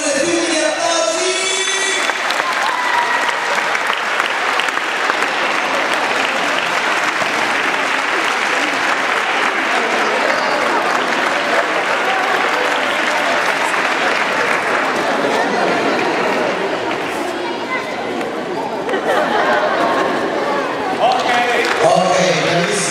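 Sustained applause from a crowd at a judo event for children, dense clapping that rolls on for about twenty seconds, with voices audible at the start and end.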